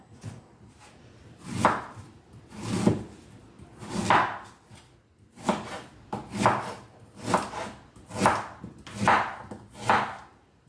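A knife slicing through a pear half on a cutting board, a series of about a dozen soft rhythmic cuts and board taps, evenly spaced and close.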